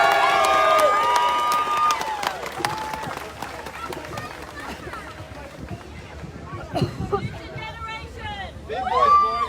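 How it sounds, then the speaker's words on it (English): Protest crowd at an outdoor march and speech event cheering and applauding, the loud mixed noise of claps, shouts and crowd hubbub fading to scattered voices and whistles, with talk throughout. "Give them a big round of applause."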